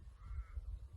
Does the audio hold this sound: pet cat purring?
no